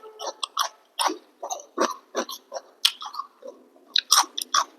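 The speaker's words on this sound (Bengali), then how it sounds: "একটু স্যালাড খাই" A person eating salad close to the microphone during a home meal, with a series of wet, crunchy chewing and biting bursts in an irregular rhythm and no talking.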